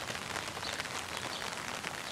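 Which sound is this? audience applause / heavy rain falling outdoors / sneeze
heavy rain falling outdoors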